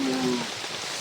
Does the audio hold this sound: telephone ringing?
no